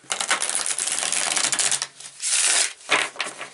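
Tarot cards handled and shuffled up close, dry rasping riffles and sliding card noise in several bursts with short pauses between them.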